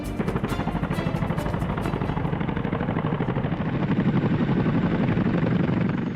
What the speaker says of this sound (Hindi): ये चिनूक है, इसे भी भारतीय वायुसेना ने अमेरिका से खरीदा है।